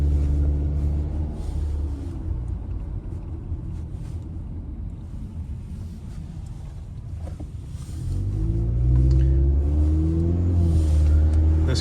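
A 2009 Toyota Camry LE with its 4-cylinder engine drives along, giving a steady low cabin rumble with road and wind noise that swells louder near the end.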